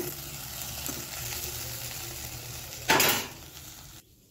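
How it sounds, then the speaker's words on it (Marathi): Okra stir-fried with chilli and garam masala in a pan, a continuous sizzle with a sharp burst of frying and a metal scrape near the end before it cuts to silence. "आता ह्याला छान परतून घेते"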